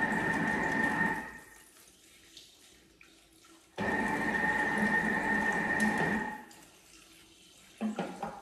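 Water runs into a Thermomix mixing bowl in two steady pours of about three and one seconds, a close hissing flow that stops abruptly, with a short splash near the end.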